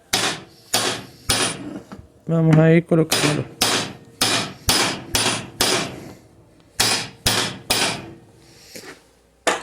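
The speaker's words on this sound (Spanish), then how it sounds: "Y con el martillo pegándole unos golpes en todas direcciones" Sharp, loud hammer blows strike a car alternator part clamped in a vise, about a dozen evenly spaced hits over several seconds, with someone talking briefly between them.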